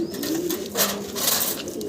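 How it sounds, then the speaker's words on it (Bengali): Foster pigeons in a loft coo in soft, repeated throaty calls close by, with several birds overlapping. "এই যেগুলো কিন্তু ফোস্টারের কবুতর"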